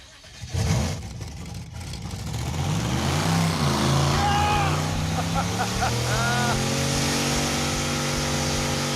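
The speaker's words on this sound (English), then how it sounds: "Now it should smoke the tires." A Mazdarati 2.0 car engine revs up hard as its tires spin, giving a loud, rising engine drone with a squealing, rubbery whine layered over it, and a voice briefly heard near the start.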